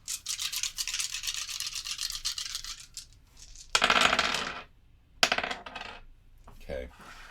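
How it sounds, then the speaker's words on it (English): Six dice in a Fantastic Factories board game clatter onto a tabletop, a rattling burst followed by several sharp rolling tumbles and bounces that settle and stop, loud and close. "We're going to get 6 dice total to roll."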